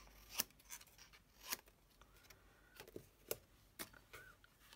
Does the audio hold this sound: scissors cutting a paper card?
yes